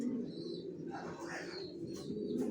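Soft cooing from a pair of silver racer pigeon chicks, low murmuring calls under a few faint chirps, close by and quiet.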